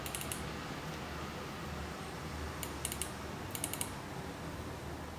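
Mouse clicks on an Atari 520 ST computer, a few faint, quick clicks in small clusters over a steady low hum, with no voices.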